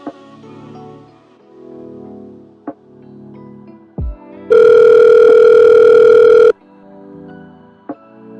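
A phone in The Sims 4 gives out a loud, steady electronic ring tone lasting about two seconds, set amid quieter game music with soft plucked notes before and after.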